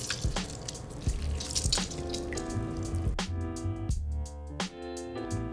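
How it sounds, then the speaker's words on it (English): Liquid dribbles and drips as firm tofu is squeezed by hand in a kitchen, a steady trickle followed by scattered separate drops, close and moderately loud. "You want to squeeze out all the excess liquid."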